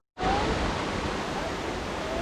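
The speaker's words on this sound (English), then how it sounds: "This may be the waterfall." Waterfall on Koh Chang, a steady broadband rush of falling water that starts abruptly and holds constant and loud, close by, with no talk over it.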